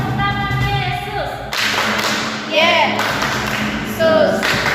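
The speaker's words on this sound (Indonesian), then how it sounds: "Tepuk tangan Yesus." Children and adults clap together during a Sunday school worship service at a Pentecostal church, sharp claps sounding over singing voices and musical tones.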